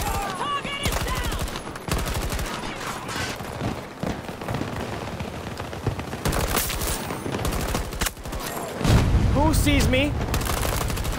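Dense automatic and single-shot gunfire crackles through a Battlefield Rush match, with continuous bursts and booms while players shout callouts over the shooting.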